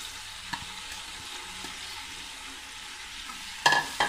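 A kilogram of onions going into a hot beef karahi, giving off a quiet, steady frying sizzle with a soft knock early on and a sharp metallic clatter near the end.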